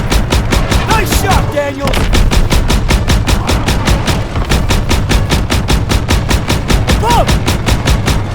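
Rapid, evenly spaced gunfire crackles nonstop through a Call of Duty WWII battle as a Stuka dive-bomber attacks, loud and dense with heavy low rumble, while a voice shouts briefly over the din.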